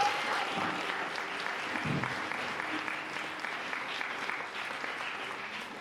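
A church congregation claps in a sustained burst of applause that fills the room evenly, then slowly tapers off.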